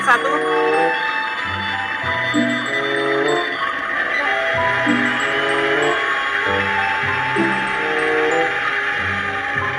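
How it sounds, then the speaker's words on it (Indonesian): A railway station departure bell sounds for the Argo Wilis train. Repeated rhythmic tones ring on and on in a steady pattern over a busy background, loud and near for the whole stretch. "Mari kita bel stasiun."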